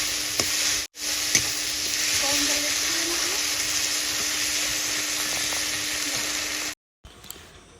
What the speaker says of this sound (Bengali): একটু জল দিয়ে দিলাম, তাহলে মশলাটা আরও সুন্দর ভাজা হবে, টমেটোগুলো সিদ্ধ হয়ে যাবে